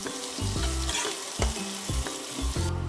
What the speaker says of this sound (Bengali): পেঁয়াজগুলো একদম লাল করে গোল্ডেন লাল করে ভাজবো।